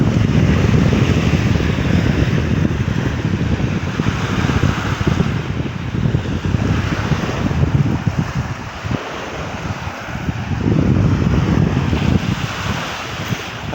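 Evening seashore in Estonia, with wind buffeting the microphone and waves washing in a constant loud roar, rising and easing slightly but never stopping, with no voices.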